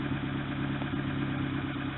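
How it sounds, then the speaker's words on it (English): A 12-volt portable air compressor runs from a car's cigarette lighter port while it fills a tire, giving a steady, rapid mechanical chugging drone that stays loud and constant throughout. "This compressor runs right off the cigarette lighter plug, 12-volt port. And we're filling up right now."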